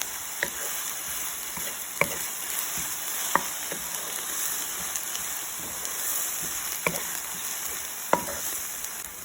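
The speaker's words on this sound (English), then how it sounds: "I'm going to add the onion. I'm going to saute it till it's soft." Chopped onion sautéing in hot oil in a pan, a dense continuous sizzle and crackle heard close up, with a few sharp pops and spoon taps scattered through, no voices.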